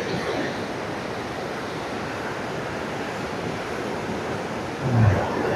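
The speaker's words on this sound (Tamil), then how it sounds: "தண்ணி பாருங்கள் எப்படி வருது" Water rushing along a forest stream at night among hills in dense jungle, a loud, steady roaring flow that fills the whole clip, with a brief louder swell near the end.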